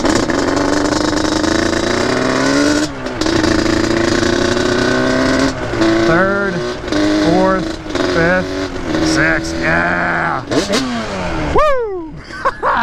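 A Yamaha Banshee ATV engine, resto-modded, revs hard and loud through its gears, pitch climbing and dropping in repeated sweeps with brief gaps between shifts, close by and steady throughout, with no talk over it.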